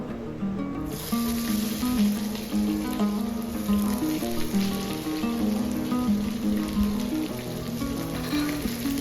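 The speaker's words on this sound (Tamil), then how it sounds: "ஆனியனை நல்லா நம்ம வதக்கி விட்டுக்கலாம்." Chopped onions sauté in a pan with a steady hissing sizzle that sounds almost like rain, partly masked by louder background music throughout.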